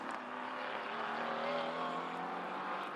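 Race cars at the 2019 China GT Ningbo round, a GT4 race, circulate behind the safety car, giving a faint, distant, even engine drone that holds steady with no talk.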